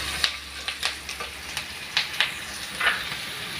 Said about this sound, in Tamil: இப்போ இந்த கேரட் கட் பண்ணி வச்சுருக்குறோம் இல்லையா, இதை சேர்த்துருங்க. இப்போ இதை நல்லா மிக்ஸ் பண்ணி விடுங்க.